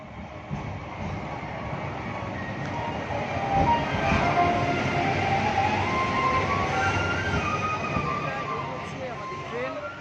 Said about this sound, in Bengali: দেখতে পাচ্ছি আমরা ট্রেনটা চলে এসেছে